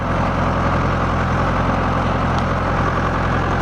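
A motocross bike at a track near York, UK, holds a steady, loud engine drone throughout, a constant close rumble with no clear rise in revs.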